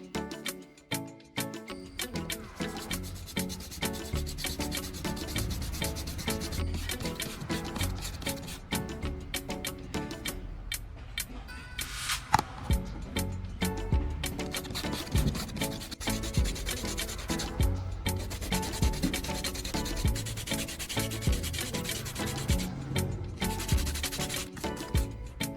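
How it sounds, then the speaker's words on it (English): Sandpaper or a grinder works the sharp cut edges of a PVC plastic knife handle, a close, continuous scratchy rasp in rapid repeated strokes with a brief pause partway through. "The edges are sharp after cutting, so smooth them with sandpaper or a grinder."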